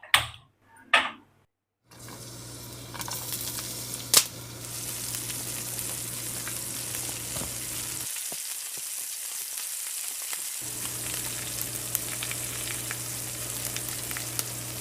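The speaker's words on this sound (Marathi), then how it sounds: "आता आपण तडको देऊचो हा कोणा कोकमाच्या तिवाळाक।" Asafoetida and cumin hit hot oil as a tadka tempering for kokum tival. A couple of sharp knocks come first, then a loud, steady crackling sizzle that drops out briefly and resumes, with no voices.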